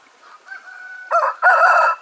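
A rooster, a fighting cock raised for Sankranti cockfights, gives a short cluck and then a loud, close crow in two bursts.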